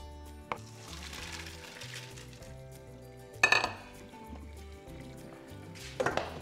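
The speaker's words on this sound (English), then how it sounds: "The pasta's perfectly cooked, so we're ready to strain that off." Cooked tagliatelle is tipped into a colander in a kitchen sink, giving a few short bursts of splashing water and metallic clatter over a steady background music bed.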